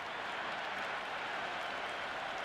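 Cricket stadium crowd at a Sri Lanka vs. West Indies T20 match roaring after a big six, a dense, unbroken wash of cheers and applause heard from a distance at moderate volume.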